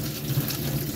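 Garlic being washed under a running kitchen tap, a steady close splashing stream into the sink with soft rinsing swirls, continuous and alone.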